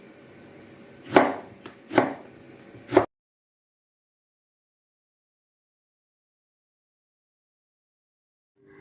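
Three sharp knife chops on a cutting board, spaced about a second apart, followed by silence.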